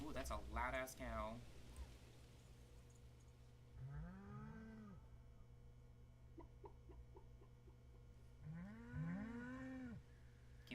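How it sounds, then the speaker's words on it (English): Two loud, drawn-out moos from a cow in the farming game Stardew Valley, a few seconds apart, with faint game sounds and light talking around them. "that's a loud-ass cow"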